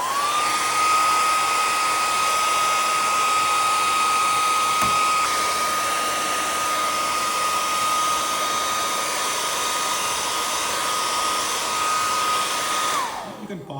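A dryer blows steadily at a constant high whine while drying a penetrant test sample, running nonstop for over ten seconds before switching off and winding down at the end.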